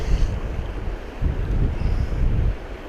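Steady wind rushes across an outdoor microphone beside the Gibbon River in Yellowstone, a low, gusty roar that rises and falls with no voices.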